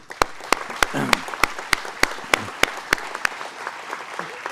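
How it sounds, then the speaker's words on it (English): Scattered, fairly sparse hand claps from a small town hall audience, each clap crisp and distinct at an uneven, steady pace, with a few voices murmuring underneath. "So let's give a round of applause."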